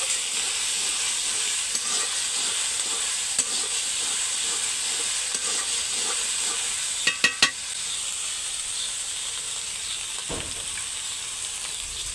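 Ginger and garlic frying in oil give a steady, close sizzling hiss throughout, with a few brief utensil clinks midway and no talking.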